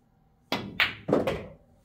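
In a game of pool, the cue strikes the ball and the 12 ball knocks around the corner pocket: three quick, sharp clacks and thunks close together, then quiet.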